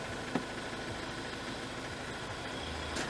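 A car engine idles steadily after being started with a freshly cut key, a low continuous hum with a brief knock near the start and no talk over it.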